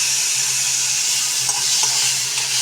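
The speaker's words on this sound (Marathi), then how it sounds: "त्याला छान आपण अगदी अर्धा चम्मच तेलामध्ये छानपैकी परतवून घेणार आहोत" Finely chopped tomato and vegetables sautéing in half a spoon of oil, a dense, even sizzle with a low hum beneath and a few faint stirring clicks, close by.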